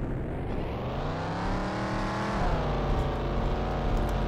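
A car engine roars and revs continuously as it chases in the video game Junkyard Fury 2, loud and close with a rising pitch sweep midway, no talk.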